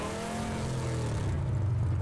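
A Mirado car in the video game PUBG drives with a loud, steady engine drone whose pitch drops and settles, heard up close with no talking over it.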